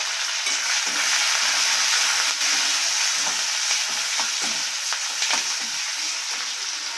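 Mustard seeds, urad dal, curry leaves and green chilies fry in hot oil with a dense, continuous sizzle and crackle, broken by occasional stirring scrapes, close and with no voice.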